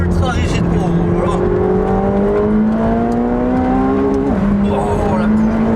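A McLaren 720S sports car at speed, its engine note climbing smoothly through a gear, dropping at a shift and climbing again, loud inside the cabin while someone talks over it.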